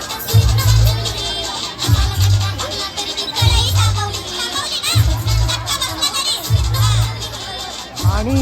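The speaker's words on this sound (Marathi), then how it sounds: "इथे गौतमीताई पाटीलला बघायला एवढी गर्दी आहे" A large festival crowd gathered to watch Gautami Patil dance at Sahyadri Mahotsav 2025 in Kandivali Charkop roars with loud shouting and cheering, over heavy rhythmic bass thumps from music, dense and close throughout.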